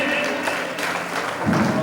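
Brief applause from a gathering at a Jain religious event welcoming guests, a short dense patter of clapping heard close, with a voice speaking near the end.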